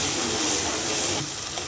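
Spices, chili and garlic frying in hot oil in a pan for a salted hilsa curry, a steady loud sizzling hiss that eases slightly near the end, with no talking.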